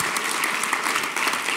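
A crowd claps steadily and evenly, dense applause for a panel at the Africa 2013 closing plenary filling the short moment without voices over it.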